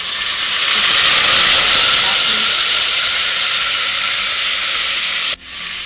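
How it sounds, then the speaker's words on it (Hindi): Garlic ginger paste thinned with a little water hits very hot oil for a beetroot mutton curry, giving a loud, close, continuous sizzling hiss that cuts off abruptly near the end. "लहसुन अदरक को हम थोड़ा पानी के साथ डालेंगे, क्योंकि तेल हमारा काफ़ी गर्म हो चुका है।"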